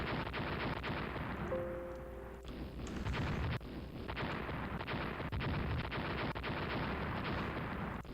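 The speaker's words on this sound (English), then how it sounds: "Yeah, now that's a horrible torpedo strike" A torpedo strike on a ship in a naval war game set with Austria-Hungary's fleet, heavy rumbling blasts and crackling bursts rolling on continuously, loud and dense, with a brief tonal hum early on.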